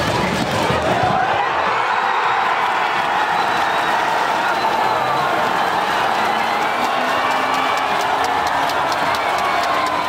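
Football supporters of Bragantino and Nacional roar in a stadium during a Libertadores match, a dense, sustained wash of crowd noise and applause that stays loud and unbroken throughout.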